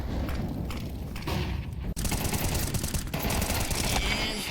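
Dense gunfire from Counter-Strike 2 in a professional match, rapid bursts of rifle shots packed tightly together and loud throughout, with a brief cut near the middle.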